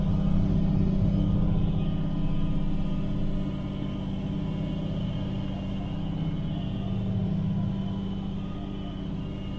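A John Deere 8530 tractor pulling a subsoiler across a field, its engine a steady, heavy low rumble that holds constant throughout with a slight easing after the first couple of seconds, heard from inside the cab.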